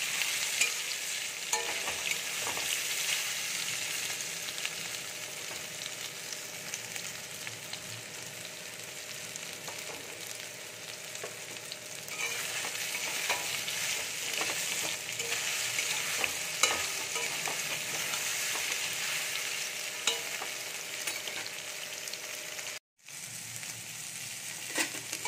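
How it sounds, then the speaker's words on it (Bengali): Soya chunks coated in spiced gram flour fry in hot oil in a wok, giving a dense, continuous crackling sizzle with occasional stirring for a long stretch. "সয়াবিনগুলো আমি একটু ভেজে নেব"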